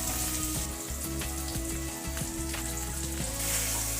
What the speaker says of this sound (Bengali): টমেটো দিয়ে দিলাম আধখানা। টমেটোটা ভালো করে ভেজে নিতে হবে।